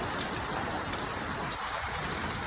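Steady, dense rain on a rainy morning pours continuously, loud and close, with an even hiss and no voices.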